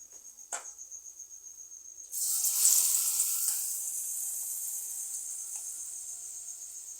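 Eggplant and potato fritters lowered into hot oil, a sudden loud, bright sizzle that bursts out after a quiet start and then settles into a steady hiss, close by with no talking.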